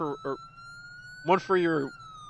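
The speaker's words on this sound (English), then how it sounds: "When your lights are on, left alt is to toggle the siren." A police car siren in the PCRP roleplay video game gives a few short, separate bursts. Each burst is clear and fairly loud, with a steady tone running underneath, and no one is talking.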